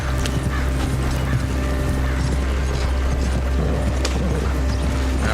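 Horse hooves clip-clop steadily in a video game, a continuous even patter at moderate volume over a low droning ambience with faint mechanical clicking.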